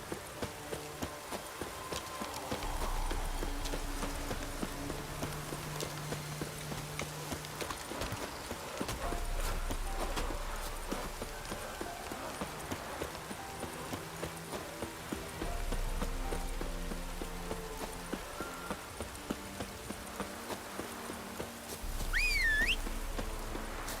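Roach the horse galloping in The Witcher 3, a steady rhythmic clip-clop of hooves over a low in-game music bed, with a brief whistle near the end.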